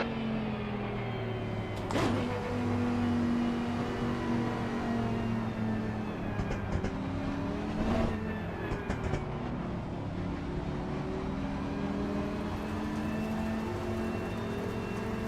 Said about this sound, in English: the GTR has always had a good sound to it